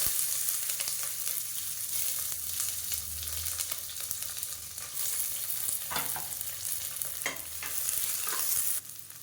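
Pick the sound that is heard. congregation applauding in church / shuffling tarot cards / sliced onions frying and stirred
sliced onions frying and stirred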